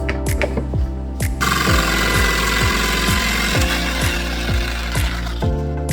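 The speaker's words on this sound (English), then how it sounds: "Now after you cut it out with the jigsaw, it should look something like this" A jigsaw cuts through clamped reclaimed wood with a loud, steady buzzing whine that starts after about a second and runs continuously to the end, under a repeating musical pulse.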